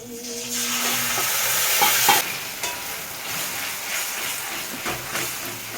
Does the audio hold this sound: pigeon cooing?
no